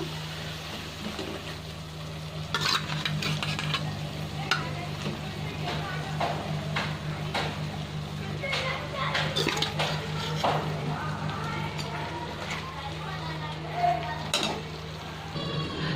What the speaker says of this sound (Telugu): ఫిష్ మొత్తం వేసుకున్నాను. మనం ఏంటంటే చాలా స్లోగా కలుపుకోవాలన్నమాట, ఎందుకంటే ఫిష్ అనేది విడిపోతుంది.